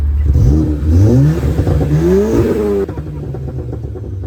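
A VW Golf GTI Mk7.5 engine is revved up close by in several rising pulls, loud and throaty, before dropping back to a quieter idle.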